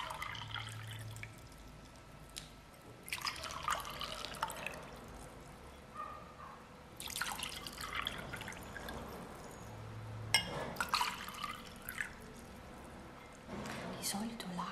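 Water trickles, pours and drips in a quiet indoor setting for ASMR relaxation, coming in intermittent bursts with short pauses between them, close and fairly soft, with a low voice faintly present at times.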